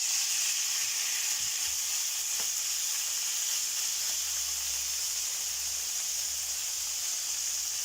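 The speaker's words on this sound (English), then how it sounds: "I will just fry it there for a little while, turning it over every now and then so the meat seals up" Pork pieces frying in hot oil in a pan for a Spanish pork, chorizo and red bean dish, giving a steady, close sizzle with a low hiss and occasional soft stirring knocks, no voices.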